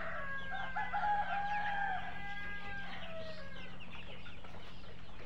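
Clucking and crowing from a flock of 44-day-old layer hens on a cold-weather farm in Thakurgaon. Several overlapping calls stand out over a steady low farm hum. They are strongest early on and thin into quieter clucks toward the end.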